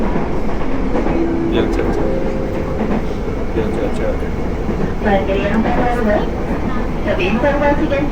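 A train pulling into a station and entering a track, a continuous loud rumble with faint squeals and rhythmic rolling, heard from close by with people talking underneath.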